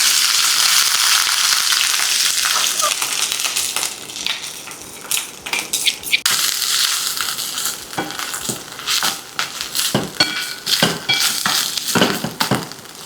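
Finely ground spice masala frying in hot oil in a pan, a loud continuous sizzle close up, broken later by scraping stirs and small clinks.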